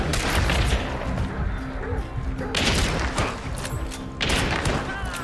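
Heavy gunshots in Hunt: Showdown boom loudly and close, with several big blasts whose noisy rumbling tails run into one another.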